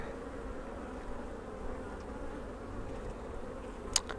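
Honeybees hum softly and steadily across a swarm hive frame, a low continuous buzz with a brief sharper buzz of one bee passing close near the end.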